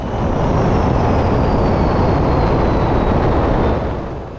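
Loud, steady roar of a jet aircraft engine at full throttle inside a fighter-style jet in flight, a broad continuous rush that holds through the whole stretch and eases slightly at the end.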